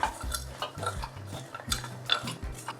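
Spoon scraping and knocking around inside a pot while stirring a sugar mixture with lime juice, in short irregular strokes with soft clinks, close up and steady with no talking.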